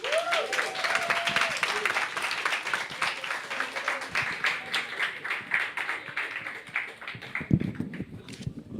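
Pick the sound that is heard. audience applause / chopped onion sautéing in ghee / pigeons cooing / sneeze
audience applause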